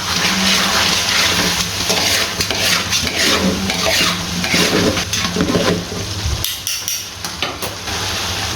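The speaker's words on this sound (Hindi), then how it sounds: "तो ये इसके अंदर ऐड कर देना। अब इसको एक बार करते हैं मिक्स।" Chicken karahi is stirred after chicken powder goes in, a loud continuous sizzle with scraping and clattering of the spoon against the pan throughout.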